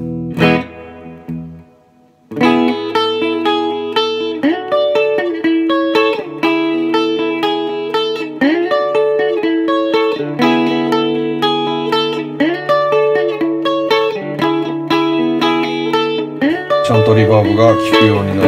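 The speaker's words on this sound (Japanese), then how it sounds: "リバーブを全開にしてもう一度、" An electric guitar plays chords and notes through a VOX AC30C2X amp, reverb fully up, soaked in heavy spring reverb that smears and rings out after each strum.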